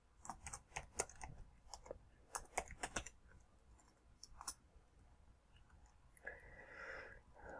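Keys on a computer keyboard clatter in quick irregular bursts while code is typed, close and moderately loud, with a pause and a brief softer rustle near the end.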